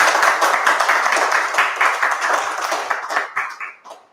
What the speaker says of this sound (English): Please let's get a round of applause for Chris.